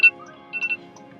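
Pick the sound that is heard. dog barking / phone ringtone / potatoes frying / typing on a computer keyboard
phone ringtone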